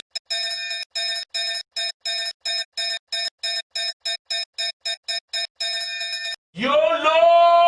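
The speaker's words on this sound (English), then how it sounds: "You call it by ringing this bell." A cartoon bell rings in quick, even bursts for about six seconds to summon a little rowing boat at a riverbank, then stops as a voice begins to speak.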